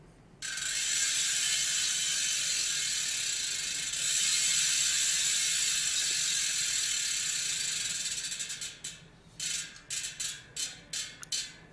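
A Nukeproof Horizon V2 rear hub with 102-point engagement freewheels, giving a fast, continuous buzzing ratchet whir that slows into a series of separate clicking bursts near the end.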